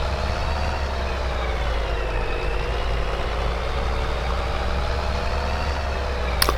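Truck engine idling steadily in a farming video game, a low continuous rumble with a faint droning whine, close and even throughout with no voices.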